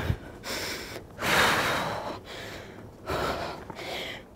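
Heavy breathing during a high-intensity recumbent cycle workout: forceful gasping inhales and exhales in an uneven rhythm, close and loud, with no talking.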